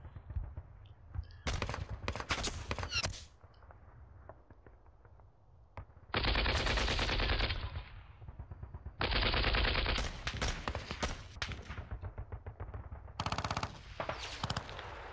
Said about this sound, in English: Okay, so they're firing at those engineers.